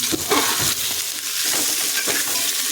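Ghee sizzles loudly around frying vegetables, a close, constant crackle with a few stirring scrapes mixed in, and no talking.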